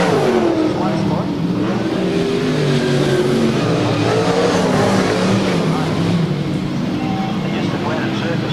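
V8 dirt modified race cars roar around a clay-surfaced speedway at the 1999 Classic Speedway Nationals, with car 17 passing close, loud continuous engine revving that rises and falls throughout.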